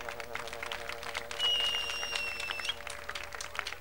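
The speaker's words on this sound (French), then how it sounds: "Je vous prie d'applaudir très très fort tous les autres artistes que nous avons vus" Applause for performing artists at a neighbourhood stage show, a dense wash of clapping from a crowd beneath talking, with a sharp whistle cutting through partway.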